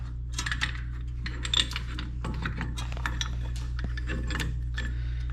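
Small metal clinks and light taps as a socket is fitted into the brake caliper of a 2009 VW Jetta during a front pad and rotor job, close and fairly quiet over a steady low hum.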